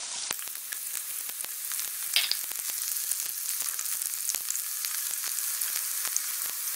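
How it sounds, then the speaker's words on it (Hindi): Garlic and ginger sauté in hot refined oil in a pan, giving a steady, moderately loud sizzle with frequent sharp crackles and pops throughout. "तेल के गरम होने पर उसमें लहसुन और अदरक डालकर सौटे करें।"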